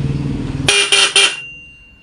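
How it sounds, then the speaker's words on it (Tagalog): A car's stock horn blasts three short honks in quick succession, loud and close, after a low engine rumble. "Stock horn tayo."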